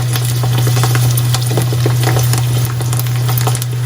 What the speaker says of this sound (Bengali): আর একটু পাঁপড় ভেজে দেবো